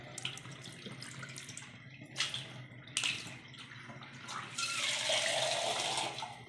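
Water runs and splashes into a basin, quiet trickles and a few knocks at first, then a fuller, louder stream near the end.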